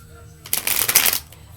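An animal oracle card deck being shuffled: one quick, crisp riffle lasting under a second, close and clear, with no talking.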